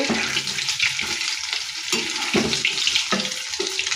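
Pumpkin flower fritters made with egg crackle as they fry in hot oil, a continuous close sizzle with a few sharper spits and light clinks of a utensil, with no one talking.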